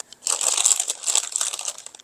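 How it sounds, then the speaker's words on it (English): Parchment paper crinkles and rustles continuously for about two seconds as a pan of old-fashioned applesauce candy is lifted out by its paper tabs, close and fairly loud with no talking. "using the parchment paper tabs, hopefully we're going to lift this candy out without much trouble"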